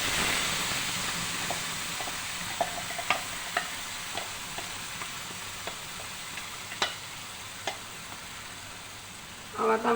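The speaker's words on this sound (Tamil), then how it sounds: "இப்போ வந்து நல்லா நம்ம கிண்டி எடுத்துடணும்." Papaya paste being stirred in a pan on a stove over very low heat: a steady close hiss and sizzle with repeated light scraping strokes of the spoon against the pan in an uneven rhythm, with no talking.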